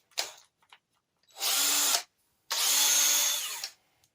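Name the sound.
power drill spinning engine to start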